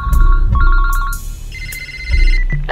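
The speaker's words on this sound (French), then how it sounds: "Le téléphone." A telephone rings in clear, repeated electronic bursts over a low background drone, loud and close.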